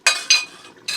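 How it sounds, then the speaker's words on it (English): A spoon stirs chicken curry in a pot set off the heat, with three separate bursts of scraping and clinking against the pot, each fairly loud and close, and quiet gaps between them. "Give it a little stir."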